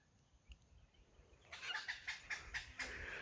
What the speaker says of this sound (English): Hear the birds in the trees.